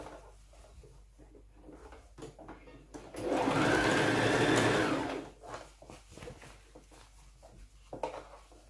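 A sewing machine stitches jacket fabric and lining together at the lapel of a notched-collar women's jacket, running in one steady, loud burst of about two seconds between quiet stretches.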